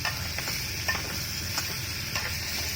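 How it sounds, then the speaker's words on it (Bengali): Tomato, pumpkin, pointed gourd, potato and chili with turmeric and salt fry in hot oil, giving off a continuous close sizzle with light stirring scrapes now and then. "টমেটো, কুমড়ো, পটল, আলু, লঙ্কা, হলুদ, আর কিচ্ছু নেই, নুন, তেল দিয়ে এই যে ফ্রাই হচ্ছে।"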